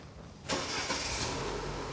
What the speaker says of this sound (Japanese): 今ちょっとエンジンかけますね。